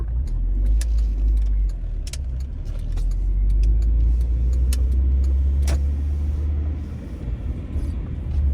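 A car turns left while driving through a Philadelphia neighbourhood street, heard from inside as a loud, steady low rumble of engine and road noise, with faint clicks and ticks over it.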